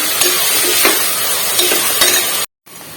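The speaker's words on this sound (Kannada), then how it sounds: "ಟೊಮೆಟೋನ ಚೆನ್ನಾಗಿ ಸ್ವಲ್ಪ ಸಾಫ್ಟ್ ಆಗೋವರೆಗೂ ಫ್ರೈ ಮಾಡ್ಕೊಳ್ಳೋಣ" Tomatoes frying in a pan and stirred with a utensil, a steady loud sizzle broken by periodic scraping strokes, alone with no voices, cut by a brief silent gap near the end.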